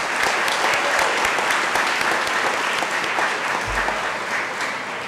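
Dense, loud applause from a large audience at a college day event, steady sustained clapping throughout with no pauses.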